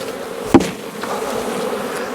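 Honey bees buzzing as hive frames are shaken during fall colony combining, a steady close drone with one sharp knock partway through.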